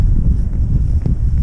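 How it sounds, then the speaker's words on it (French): Strong wind buffets the microphone outdoors on a trail in Normandy, a loud continuous low roar with gusty swells and no speech. "là où je suis en plein vent, où j'ai un poil froid aux mains"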